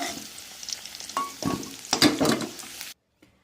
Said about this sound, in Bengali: আলুটা প্রায় ভাজা হয়ে এসেছে